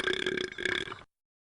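One loud, rough burp lasts about a second, close-up and alone, then cuts to silence.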